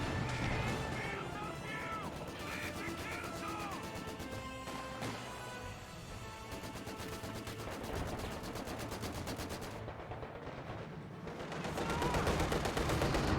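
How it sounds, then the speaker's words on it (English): Rapid gunfire from an AEC armoured car in Company of Heroes 2, sharp repeated bursts and impacts layered with other battle noise and explosions throughout a busy combat mix. "Oh, and AEC firing away and does take a hit there."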